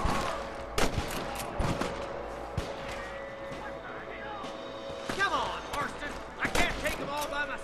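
Gunfire from the Western video game Red Dead Redemption: sharp, irregular shots and impacts scattered through a busy game soundscape, with several bursts close together and someone talking over the action.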